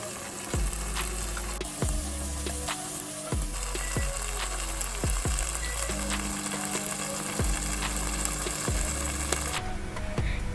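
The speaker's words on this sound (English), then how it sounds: "add 3 finely chopped tomatoes and saute them till they become nice and soft" Chopped tomatoes and cashew nuts saute in a pan with a steady sizzle, broken by repeated scraping strokes of a stirring spoon.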